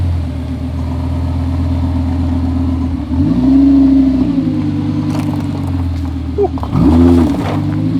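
A Lamborghini that shoots flames idles loudly nearby, then revs twice in sharp rising-and-falling bursts, with crackles and pops from the exhaust.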